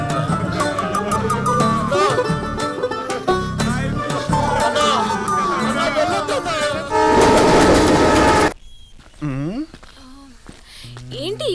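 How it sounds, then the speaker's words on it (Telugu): A train pulls into a station with rumbling wheels and rhythmic rail clatter, building to a loud, sustained horn blast near the end, while people talk over the noise. "అదిగో ట్రైన్ వచ్చేసింది."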